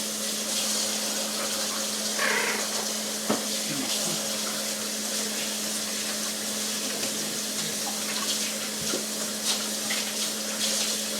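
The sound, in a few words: washing hands under running water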